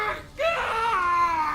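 Screaming in The Witcher 3: Hearts of Stone, a loud, strained, wailing cry with a sharp, rising tone. It breaks off briefly, then carries on as a sustained high-pitched scream.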